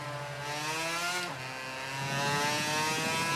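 A 250cc motorcycle in Ride 3 revs and drops its pitch through a gear change, then pulls again with a loud, buzzing engine note that stays close throughout.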